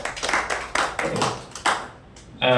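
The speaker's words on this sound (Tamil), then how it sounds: "அந்த வகையில் இவங்களுக்கு ஒரு பாராட்டலாம், ஒரு கைத்தட்டல் மூலமாக கொடுத்துடலாம்னு நினைக்கிறேன்." Audience at a Tamil literary society gathering claps in appreciation, a short burst of applause that thins out and fades, with no talk over it.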